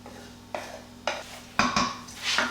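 Chopped onion goes into a pan over medium heat and is stirred with a utensil, giving several sharp clinks and scrapes against the pan at a steady pace, close and fairly loud, with no voices.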